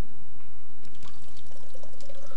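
Hot water runs from a tap in SOMA, a steady close splashing and trickling stream with scattered drips, loud and uninterrupted.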